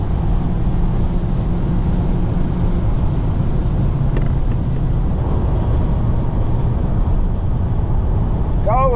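Car cruising at about 120 mph on the German Autobahn, heard from inside as a steady loud rumble of road and wind noise that never lets up, with a faint chirp near the end.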